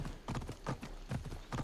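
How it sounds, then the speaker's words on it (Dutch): A horse gallops in Assassin's Creed Odyssey with a steady, rapid clip-clop of hoofbeats in a rhythmic triple pattern. The hooves are moderately close and fairly quiet, with no one speaking. "gelukkig loopt het paard hard genoeg"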